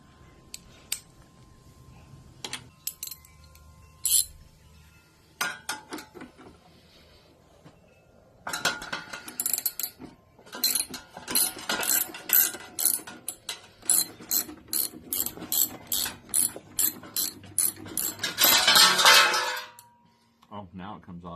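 A ratchet wrench clicks repeatedly as it works a bolt on the foot peg and exhaust area of a 2023 Kawasaki Ninja 400, with quick bursts of ratcheting, metal clinks and a spoken comment over it.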